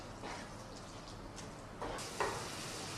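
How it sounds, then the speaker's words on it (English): Onions frying in melted butter in a pan give a steady, close sizzling hiss, with a brief clink of a utensil near the end while making a chicken korma. "onions are sizzling beautifully"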